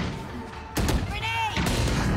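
A grenade blasting in a video game firefight, a sudden heavy boom followed by rumbling decay and further bursts, loud amid ongoing combat noise with voices in the background.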